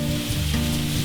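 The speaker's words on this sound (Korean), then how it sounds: "매콤한 양념에 콩나물 넉넉히 곁들여 빨갛게 볶아낸 보고불고기는" Spicy pufferfish bulgogi with bean sprouts stir-fries in a hot pan, giving a dense, steady sizzle with soft stirring scrapes and no voices.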